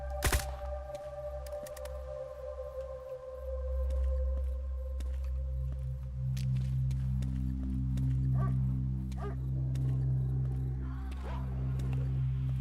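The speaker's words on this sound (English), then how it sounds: "You can hear people being attacked in the background, shooting and dogs barking." In the video game Dark Skies 2, dogs bark and gunshots pop in the distance over a steady low ambient drone, with faint scattered background sounds.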